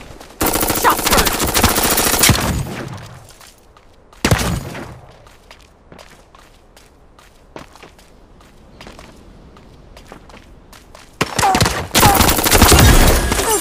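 Gunfire in the mech shooter Super Mecha Champs during a ranked battle: loud bursts of rapid automatic fire at the start and end, a sharp blast near the middle, and scattered lighter shots and footsteps in between.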